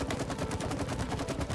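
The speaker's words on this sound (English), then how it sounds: "You throw explosions!" Rapid explosions from the co-op video game It Takes Two fire in a continuous burst of evenly spaced, punchy blasts, loud and close, with no talk.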